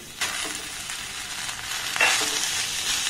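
Capsicum and 200 grams of grated paneer fry in a hot pan with a steady, loud close-up sizzle. Brief scraping bursts rise from stirring, and no one speaks.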